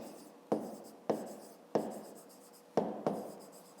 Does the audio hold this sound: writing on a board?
yes